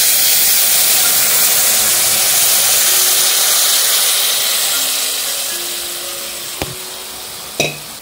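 Tamarind water hits a hot pan for a small-fish sour curry, giving a loud, steady broadband hiss that slowly fades over several seconds, with a couple of sharp clicks of utensils near the end.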